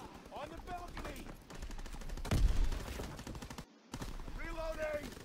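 Gunfire in the multiplayer mode of the video game Call of Duty WW2: a loud burst of shots hits mid-clip, with a player talking before and after it.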